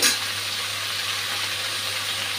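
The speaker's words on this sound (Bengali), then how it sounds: "ঝিঙ্গেটা ভাজতে দিয়ে দিয়েছি" Ridge gourd fries in a pan with a continuous, even sizzling hiss and a low steady hum beneath, heard close up with no stirring or speech.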